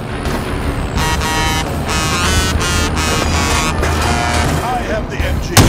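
Game vehicle driving in Call of Duty Warzone Rebirth Resurgence, a loud steady engine drone with harsh horn-like tones layered on top, running continuously under game effects throughout.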